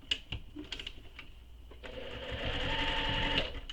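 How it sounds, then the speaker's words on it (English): A sewing machine stitches the top edge of a handbag, starting with a few short, halting bursts of needle clatter before settling into a steady, close, rapid mechanical whir. "So go ahead and sew that top edge"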